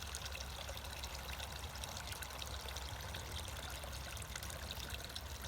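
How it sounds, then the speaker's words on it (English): Water flows steadily through a channel of a stream erosion model, a continuous close trickling and pouring wash that holds even throughout with no talk. "So here comes the water on one of the channels, and look how clear it is coming out of the channel."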